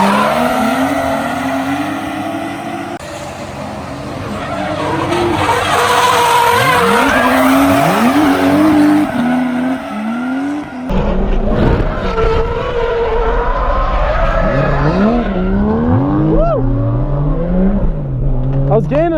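A Toyota JZX100 Cresta drifts with loud, sustained tire squeal and skidding over a revving engine, the screech rising and falling through the slides, with voices talking at times.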